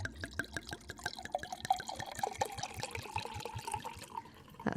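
Wine poured from a bottle into tall tumblers, a close, gurgling liquid stream with rapid rhythmic glugs running steadily throughout.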